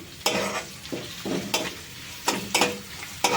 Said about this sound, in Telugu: ఇవన్నీ వేగనిద్దాం, కొంచెం పచ్చివాసన పోయేదాకా వేగితే బాగుంటుంది.